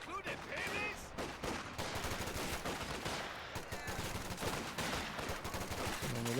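Stuart tank gunfire in the real-time strategy game Company of Heroes, rapid repeated shots mixed into a dense battle soundscape, with faint talk underneath.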